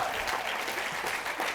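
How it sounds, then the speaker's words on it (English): Steady applause from an audience welcoming panelists onto a stage for a talk on ageing, a dense, even wash of clapping throughout, with no distinct voices. "Come on, panelists, come on in. Big round of applause."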